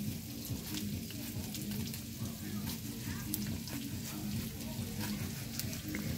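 Tomato and onion frying in oil in a Guatemalan home kitchen, a steady dense sizzle holding at an even level for the whole stretch, with no speech over it.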